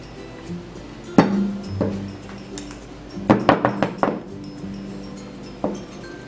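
Plum cake batter in cake cups being tapped to level it, with scattered sharp clinks and knocks, a quick cluster of taps in the middle and one more near the end.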